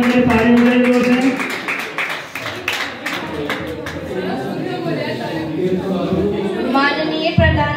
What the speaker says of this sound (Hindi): एक बार मीनाक्षी वर्मा के लिए ताली हो जाएगी जोर से